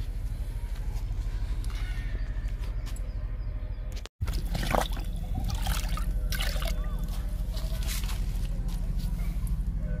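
Liquid fertilizer made from papaya peels soaked for a few days is poured onto a potted plant, making a steady trickle over a constant low hum with one brief dropout.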